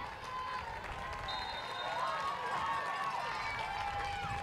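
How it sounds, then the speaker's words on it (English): Soccer fans at a Boston Breakers women's match cheering from the stands, a distant, continuous crowd roar with whistles and faint calls rising and falling, heard under light commentary. "Loyal Breakers fans are cheering them on."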